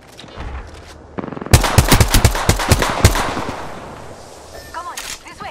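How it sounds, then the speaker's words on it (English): Automatic weapon fire in the Apex Legends battle royale game: a short rattling burst, then a rapid run of loud, close shots spaced in a quick rhythm before fading into softer ambient noise. "Opening fire on the enemy"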